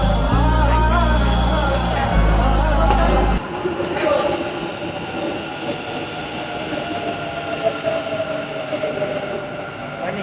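Metro train arriving at a station, a loud low rumble with a whining motor tone that drops to a steadier rolling clatter of wheels on track, with murmuring voices around it.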